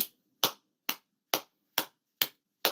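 A series of seven sharp, evenly spaced hand claps in a cupped monkey clap style, each crisp and hollow with a quick decay, ringing out alone with no talk.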